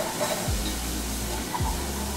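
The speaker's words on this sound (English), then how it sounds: "You'll usually get that sizzle every time because you're putting cold milk on a hot pot." A steady hiss of cold milk sizzling in a hot pot, with two brief low swooshes from stirring, continuous and close.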